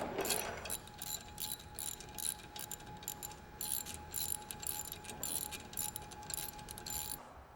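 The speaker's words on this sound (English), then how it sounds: "Tighten the pushing bolts." A ratchet tightens the pushing bolts to free a brake drum from a MAN truck rear axle, making a steady run of quick metallic clicks in repeated bursts, close and clear with no talk.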